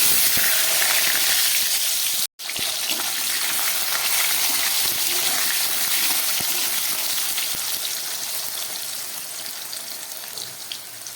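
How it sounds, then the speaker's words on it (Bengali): Potato pieces frying in hot oil in a pan for a Bengali tangra fish dish: a loud, steady, hissing sizzle that runs continuously, with one brief cut near the start. "এবারে এর মধ্যে আমি কয়েক টুকরো আলু ভেজে নেব।"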